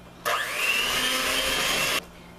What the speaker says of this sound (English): Now I'm going to add my egg in and then mix that in.